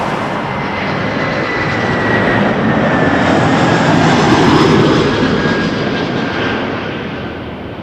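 A Jazz airliner rolls for takeoff on runway 23 at Toronto Pearson Airport, its engines building into a loud, steady roar that swells and then slowly fades, heard from the distance with no voices.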